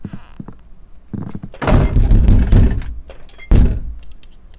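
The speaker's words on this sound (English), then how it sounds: "Of course someone slams the door behind me." A door slams shut behind the player in the horror game Knock Knock, a heavy booming thunk with a rumbling tail, then a second loud knock, close and forceful after a few quieter bumps.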